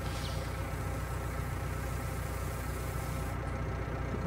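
Tractor engine in Farming Simulator 2019, a steady droning hum that holds at an even level throughout with no voices.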